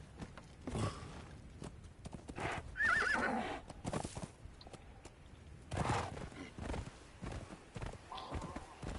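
A horse whinnies loudly in the video game Conan Exiles amid steady clip-clopping hooves and other game effects.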